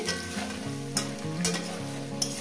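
Vegetables fry in a pan for a rohu fish head chochchori, a continuous close sizzle with light stirring, over a low tonal hum.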